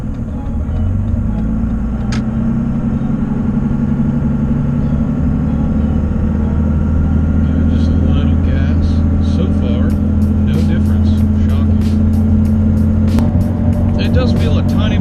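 A diesel pickup fitted with an aftermarket intake horn and grid heater delete accelerates up a highway on-ramp, a steady loud low engine drone with road roar throughout, heard from inside the cab.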